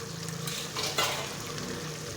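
Masala being fried and stirred in a pan for kachnar gosht, orchid tree buds with meat, giving a steady soft sizzle with a brief louder scrape of stirring near the middle.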